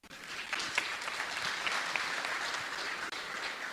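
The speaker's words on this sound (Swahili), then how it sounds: "Tumpigie makofi." An audience at a talk for youths and business people breaks into a burst of applause. Dense, even clapping holds for several seconds with a few sharper claps standing out and no voices on top.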